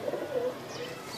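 A pet pigeon coos softly and low, a short murmuring call in the first half second, then quieter room noise with no talking.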